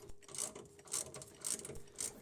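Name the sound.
10mm socket ratchet unscrewing bolt on gas tank cover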